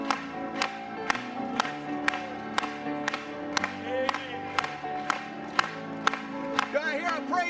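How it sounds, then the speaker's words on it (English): A church congregation claps in steady rhythm, about two sharp claps per second, over music and voices in a tabernacle service. "Let's clap to him one more time tonight."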